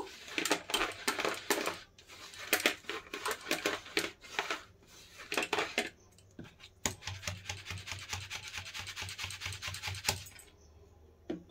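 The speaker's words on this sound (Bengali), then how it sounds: "এখানে দেখেন আমি আটা চালনি নিয়ে নিয়েছি। এর মধ্যে দিয়ে আমি একটু চেলে নেব।" Homemade gram flour (besan) is sifted through a flour sieve, producing rhythmic tapping and scraping clatters in repeated bursts, fairly close and clear with no talk.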